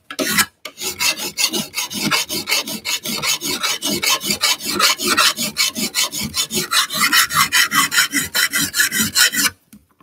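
Hand file rasping along the edge of a high carbon steel garden spade in fast, even back-and-forth strokes, a loud gritty scrape repeating steadily for about nine seconds before stopping.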